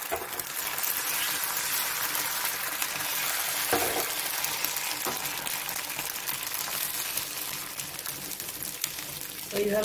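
An egg roll lachha paratha frying in oil on a pan gives a steady, dense, close sizzle with a couple of brief soft knocks, and no voices over it.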